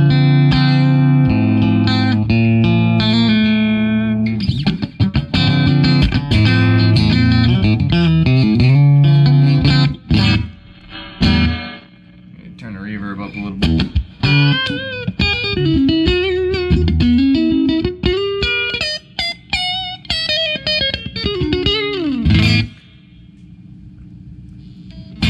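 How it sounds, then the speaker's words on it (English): An electric guitar plays through an amp on its clean channel, volume, bass, mid and treble all at 5, giving a clear tone with a run of picked notes and chords, then bends and sustained notes that ring out alone. "So clean setting, volume at 5 with my mid, bass, and treble up at 5. You get just a decent clean tone."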